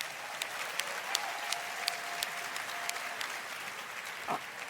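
Audience applause at a developer keynote, steady crowd clapping of moderate volume with occasional sharper claps standing out throughout.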